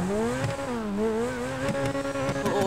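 Ferrari 488 Pista engine in GTA 5, a steady revving exhaust note rising and falling with sharp pops and crackles toward the end, close and alone.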